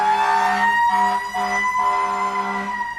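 A fire truck siren wails steadily and loudly for the full stretch, a sustained electronic tone rich in overtones with slight wavering, heard alone without any voices.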